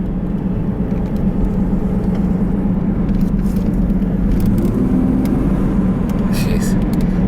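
Oldsmobile Cutlass Cruiser station wagon with 16,000 original miles, engine humming steadily and low while driving, a continuous smooth drone with faint road noise under occasional speech.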